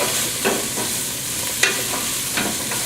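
Cooked white beans with cubed butternut squash are turned in oil in a pan, a constant loud sizzle broken by a few scraping stir strokes, with no one talking.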